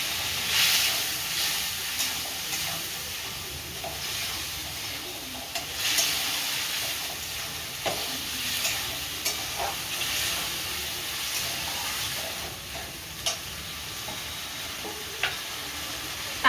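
A lentil mixture with Kashmiri chilli sizzles and fries steadily in a pan, with a constant hiss broken by scattered scraping and clinking stir strokes throughout.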